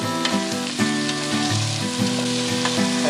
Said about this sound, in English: you will put your onions in there. And you'll hear a sizzle